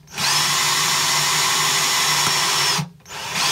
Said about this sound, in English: Here I have the drill bit about halfway in. I'm going to take it in just a little bit deeper.